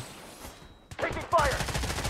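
Gunfire in the shooter game Blood Strike, a fast cluster of shots that starts suddenly about a second in, with a player's voice talking over the bursts.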